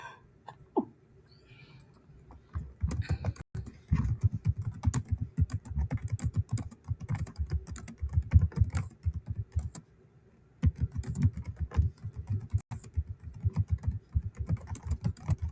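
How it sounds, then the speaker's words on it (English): Rapid clicking keystrokes on a computer keyboard come in uneven bursts with a couple of brief pauses, close and fairly quiet, with no talking. "You type whatever you want to type, whatever your objective is."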